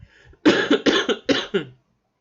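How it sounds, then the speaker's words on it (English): A person coughs in a rapid burst of about five or six loud, close harsh coughs, preceded by a faint breath, then silence. "excuse me for the coughing"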